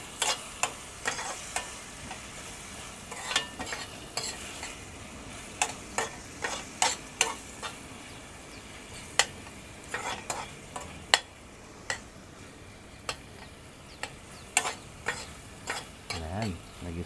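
Sautéed food seasoned with pepper being stirred in a pan: frequent sharp scrapes and clicks of a utensil against the pan over a low, soft sizzle, close and without talk.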